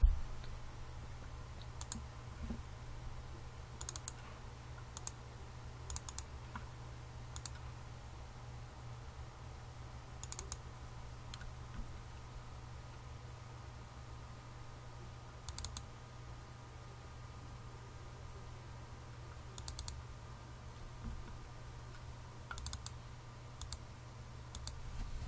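Computer mouse clicks while closing windows and opening a file in 3D texturing software, sparse sharp clicks scattered over a steady low hum, close and fairly quiet.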